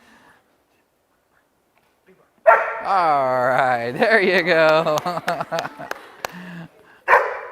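A nine-month-old family personal protection dog gives a burst of sharp, loud barks near the microphone after someone speaks, with a final bark at the end.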